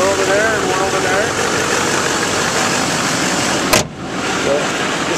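A 2007 Chevy Silverado 3500 HD with a 6.6 turbo diesel idles with a steady, close rumble while someone talks over it, broken by one sharp click near the end.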